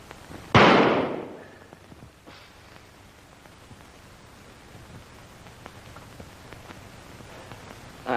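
A single loud gunshot at a shooting contest in a 1942 film, a sharp close blast with a decaying tail, followed by a quiet stretch of hiss and faint noise.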